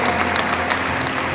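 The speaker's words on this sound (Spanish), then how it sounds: "Muy bien, fuertes aplausos a" An audience at a diploma ceremony for computer courses applauds a graduate named Norma, with a dense, steady wash of clapping that is loud and close throughout this brief moment.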